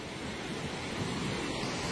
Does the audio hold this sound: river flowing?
yes